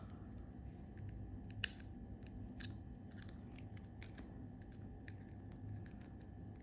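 Cutters snip jewelry wire while a Celtic-style wire-wrapped pendant is being made. Small, sharp clicks come in quick bursts, faint against a low steady background hum.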